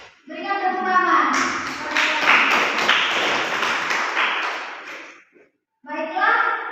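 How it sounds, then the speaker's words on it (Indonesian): A grade 10 high school class claps hands together in a classroom, a few seconds of busy, overlapping clapping. A teacher's voice speaks just before it and again right after it ends. "Berikan tepuk tangan."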